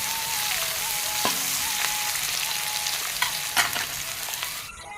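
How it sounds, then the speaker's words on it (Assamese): Onions frying in oil with panch phoron, bay leaf and dried chillies for khichdi: a steady, close sizzle with a few sharp crackles and stirring knocks, no talking, and the sound thins out at the end. "এইখিনি ভালদৰে ৰঙচুৱা ভাজি ল'ম।"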